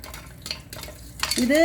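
Popcorn kernels pop inside a pressure cooker as a few sharp, muffled cracks and clatters, close by, ending in a brief rising hiss.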